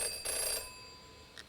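A telephone rings in the video game Jenny LeClue, a clear electronic trill in short bursts at moderate loudness, with no voices over it.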